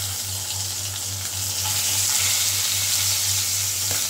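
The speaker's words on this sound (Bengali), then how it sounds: "এরপর আমি এই তেলটার মধ্যে মুড়োগুলো দিয়ে দেব ভাজার জন্য।" Fish heads fry in hot oil in a wok, giving a steady, close, loud sizzle with a dense crackling hiss and no pause for the whole stretch. A low hum runs steadily beneath the frying.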